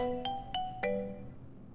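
A phone rings with three quick bright chime tones in succession, the last one ringing out and fading, clear and close with no talking.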